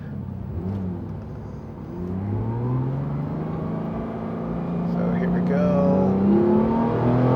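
A Porsche GT3 RS engine in manual mode revs hard toward its 9,000 rpm redline, pitch climbing steadily and growing louder, with a person speaking over it.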